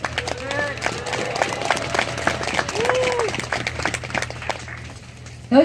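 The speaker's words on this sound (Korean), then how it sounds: "큰 박수로" Crowd applause at a health-care union rally in Incheon, a dense steady clatter of many hands held for several seconds beneath a speaker's voice and loudspeaker hum.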